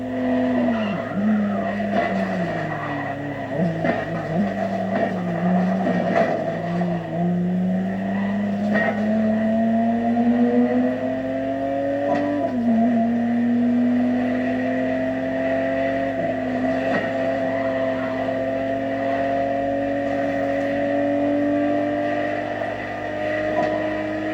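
A 1991 re-engineered Ferrari drives in The Crew Motorfest with a sustained engine drone that climbs and dips through gear changes, punctuated by brief tire squeals, loud and steady with no voices.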